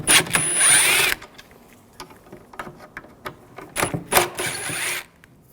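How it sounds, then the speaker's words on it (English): T25 screws being removed from an intake manifold bracket on a 2007-2013 BMW 328i 3.0L inline-six, two close bursts of ratcheting or driving noise separated by light clicks and handling sounds. "Now using a T25 socket, take this bracket off, take these screws out."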